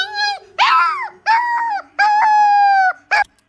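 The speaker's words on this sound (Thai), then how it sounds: "มันคือเสียงหมา ที่มันร้องครับพี่" A dog howls close by in several drawn-out, wavering cries separated by short pauses, ending with a brief yelp.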